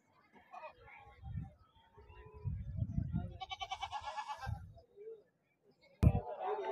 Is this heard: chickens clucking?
no